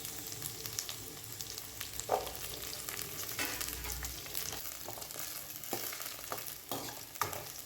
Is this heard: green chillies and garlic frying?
yes